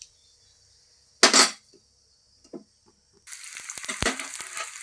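Green chillies and onions go into hot oil already holding a bay leaf, cloves and cinnamon, with a sudden loud hiss, a couple of short bursts, then a continuous bright sizzle that swells and crackles.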